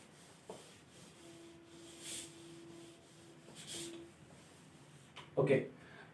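Soft, faint rubbing as writing is erased from a board, a few brief swishing strokes spread out, ending in louder scuffs, with quiet surroundings.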